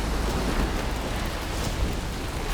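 Steady rain with a low storm rumble during a thunderstorm in Horizon Forbidden West, a dense, even wash of downpour noise holding at constant loudness with no voices.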